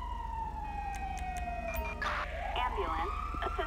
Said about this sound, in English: let me get an ambulance over here